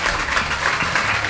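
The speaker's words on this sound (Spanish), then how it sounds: "un aplauso para ellos" Studio audience in a Spanish TV programme gives a brief, steady round of applause as National Police officers walk onto the set.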